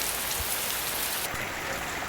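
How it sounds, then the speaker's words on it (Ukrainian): Steady rain falls in a Ukrainian village in late autumn, an even, close hiss of drops on surfaces that continues without break or voices. "Знову йде дощ"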